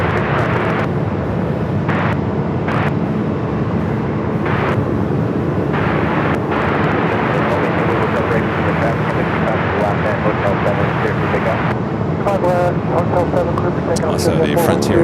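A Delta airliner takes off on runway 25 right at Phoenix Sky Harbor, its jet engines a loud, steady roar that holds for the whole stretch, with some broadband rumble and faint background noise.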